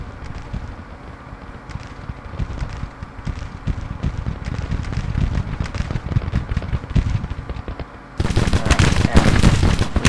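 Civil War battle at Chancellorsville in Grand Tactician brings massed rifle fire as a continuous crackling rumble that grows heavier and louder near the end, with a voice talking over it.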